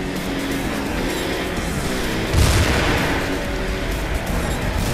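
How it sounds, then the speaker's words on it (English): Explosions in the Trails Fusion video game, a steady rumbling barrage of booms and gunfire-like blasts with one louder burst near the middle, continuous throughout. "Oh shit, explosions."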